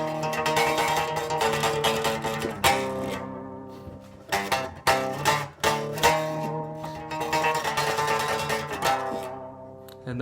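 A guitar plays a riff with a lower perfect-fourth note under each line, chords and sustained tones ringing in bursts with brief choppy gaps midway, close and alone without speech.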